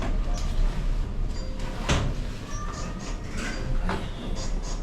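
Metro train sliding doors closing at a busy central station, a brief mechanical thud and slide standing out around the middle over steady platform rumble and crowd hubbub, with faint tonal chimes.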